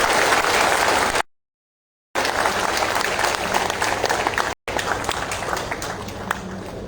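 A crowd at a gathering applauds to welcome a national general secretary, with dense, loud clapping cut by two abrupt stretches of silence before resuming.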